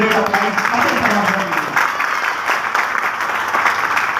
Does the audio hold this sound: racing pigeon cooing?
no